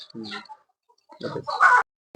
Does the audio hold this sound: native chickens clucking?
yes